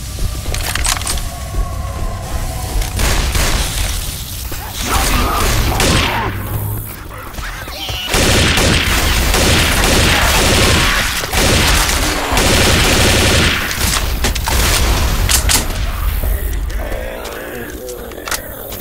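Dense gunfire and booming blasts in Left 4 Dead 2 online, The Parish campaign on advanced mode, rattling loud and nearly nonstop with crashes and thuds layered through it.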